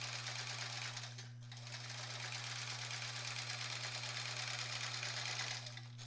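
Domestic sewing machine running steadily while free motion quilting a sampler block, a continuous close whirring motor hum with a brief dip near the start and another at the end, no talk.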